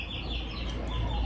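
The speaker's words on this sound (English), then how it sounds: "you can hear these birds in the background" Laying hens cluck softly in the background on a farm, with faint, scattered calls over a steady low rumble and no talking.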